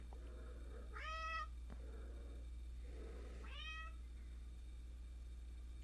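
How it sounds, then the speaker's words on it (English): Two cats meow indoors, two separate rising-falling calls about two seconds apart, soft and close against a quiet room with a low background hum. "Stop everything, cats are happening."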